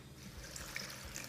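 Water runs and trickles steadily from a tap over salted cabbage being rinsed in a kitchen sink, a soft continuous splash close by with no talk.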